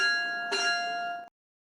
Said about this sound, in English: The school bell rang.